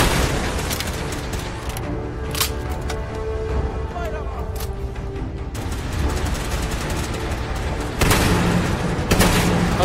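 Shotgun firing in Fallout 4, several heavy booming blasts spaced a few seconds apart, loud and close, mixed with someone talking.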